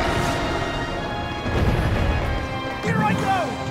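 Rumbling explosions and crashing impacts from the Marbled Gohma boss fight in Zelda: Tears of the Kingdom, a dense continuous battle din of booms that swells midway and again near the end.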